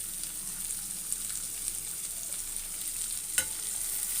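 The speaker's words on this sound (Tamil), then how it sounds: "இதையும் நல்லா வதக்கிடுங்க" Curry leaves and coriander sautéing in potato masala with onion for poori, a soft continuous frying hiss with faint stirring and one sharp scrape near the end, moderately quiet and close.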